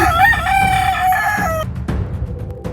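A rooster crows loudly and close by, one long drawn-out call that cuts off abruptly, followed by quieter background clucking and rustling.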